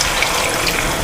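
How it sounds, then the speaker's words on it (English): Meat stock pours steadily into a pot of washed rice for jollof rice, a continuous loud gushing splash with no talk. "Now add the meat stock"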